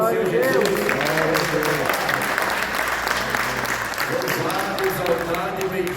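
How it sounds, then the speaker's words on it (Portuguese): A church congregation applauds for the Lord Jesus, with loud, continuous clapping from many people blended with voices calling out over it throughout. "Quem pode dar uma salva de palmas para o Senhor Jesus?"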